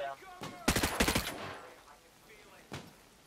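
Gunfire in the Ghost Recon Breakpoint video game during a tactical milsim operation, a quick burst of several sharp automatic shots followed by one more isolated shot a moment later, with quiet voice chatter in between.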